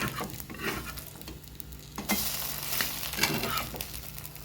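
Food fries in a hot pan after being turned to its second side, giving a dense, continuous sizzle close by with a few stirring and scraping sounds over it.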